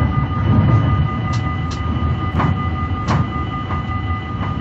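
Train in the Metrosimulator game heard from a driver-only control car with the engine at the far end, a quiet steady rolling rumble with a tonal whine and periodic rail clicks, no talk.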